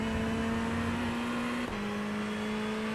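A Ferrari 488 GT3 Evo race car engine in iRacing at the Hungaroring, a steady loud drone that dips briefly with a gear change and then holds its pitch again.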